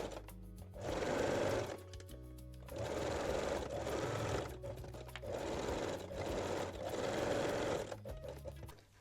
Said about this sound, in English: And stitch both sides of the elastic.